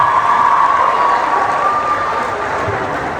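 An audience at a nurses' week debate event claps and cheers together in sustained, dense applause that fades slightly toward the end, with a shrill tone held above the crowd noise.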